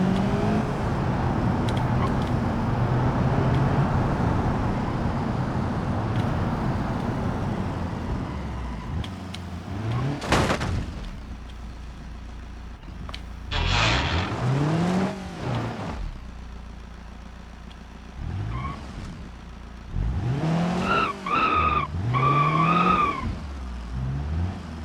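Goal 3D GT car in BeamNG.drive, its engine revving loudly and rising in pitch through gear changes, then repeated tire skids and screeches in separate bursts with short pauses between.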